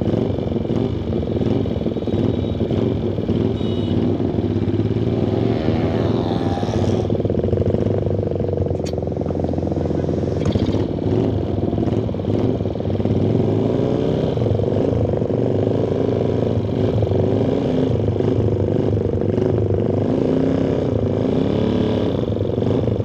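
Motorcycles with loud aftermarket exhausts racing along a road in Bandung, a continuous heavy engine roar and wind rush with shifting revs, heard close from a riding motorcycle.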